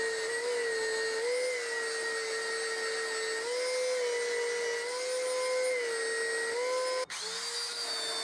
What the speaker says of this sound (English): Next I could sand the whole thing with my belt sander using a 120 grit paper.